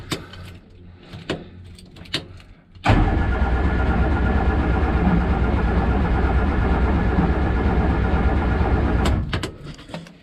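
A Morris Minor engine with a suspected spark fault cranks loudly and steadily for about six seconds without catching, preceded and followed by a few sharp clicks, close by.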